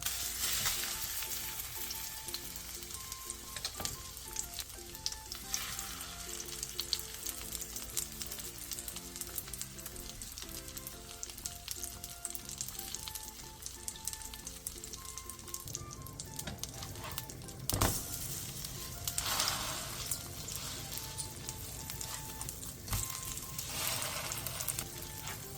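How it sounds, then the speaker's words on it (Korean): Korean meat skewer pancakes, dipped in flour mix and egg wash, fry in a pan over medium-low heat with a steady close sizzle running throughout, with no voices. "중약불에서 앞뒤로 노릇노릇하게 부쳐주세요"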